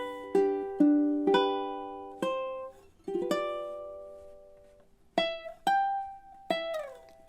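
Ukulele plays a passage from a song, plucked chords and single notes ringing out with a steady pulse, close and clear with no voices.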